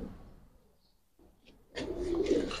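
A Giribaj pigeon in a loft gives soft, low cooing, faint at first and then fuller and closer near the end, with no talk over it.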